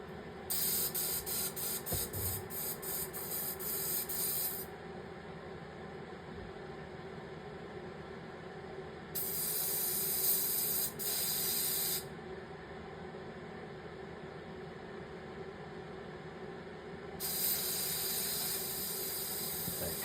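Spray paint hissing onto a custom Nike Air Force 1-style glide shoe, three loud bursts of spraying separated by quieter pauses, close up with no voices.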